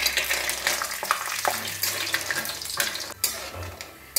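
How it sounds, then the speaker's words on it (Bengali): Lentil bori frying in hot mustard oil in a wok, a steady close hiss and sizzle with scattered pops and a low rumble, no voices. "তেলটা গরম হয়ে গেছে, আমি বড়িগুলো আগে ভেজে নিচ্ছি।"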